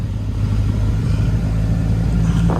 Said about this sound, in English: I'm gonna let him drive the EP3, see if he can handle all the power